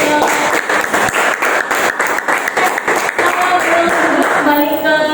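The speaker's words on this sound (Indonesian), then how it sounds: "Kita beri aplaus dulu." A classroom group applauds the sixth group's presentation with dense, steady clapping from many hands, loud and close, fading slightly toward the end as a voice speaks faintly underneath.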